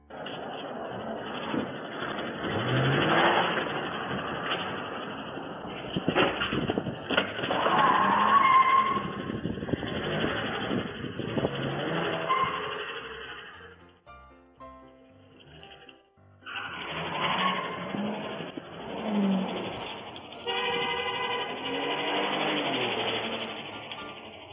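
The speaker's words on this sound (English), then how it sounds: "This guy was in a car chase with police when he jumped out of the vehicle" A car fleeing police in a chase, with engine roar and tire squeal building into loud skidding, a brief drop in the middle, then the engine and tires surge again, heard without talk.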